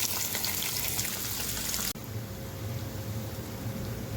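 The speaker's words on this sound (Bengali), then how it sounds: "এবার ওই মাছ ভাজার তেলেই শুকনো লঙ্কা, তেজপাতা আর পেঁয়াজ কুঁচো দিয়ে দিলাম।" Dried chillies, bay leaves and chopped onion hiss and sizzle in hot fish-frying oil, a loud dense crackle that drops slightly in intensity halfway through.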